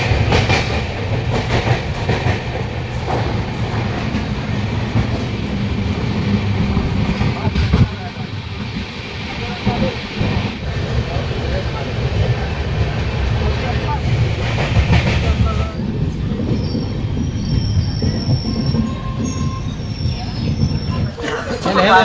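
Patna–Howrah Jan Shatabdi Express in a 2S class coach running on tracks after leaving Patna Junction, loud continuous rumble with clickety-clack of wheels, easing slightly toward the end with faint squeals.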